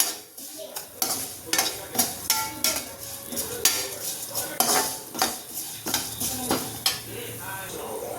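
Vermicelli roasts in a pan until brown for paal payasam, with a soft sizzle under regular metallic clinks and scrapes as a spoon stirs against the pan, close up and without talk.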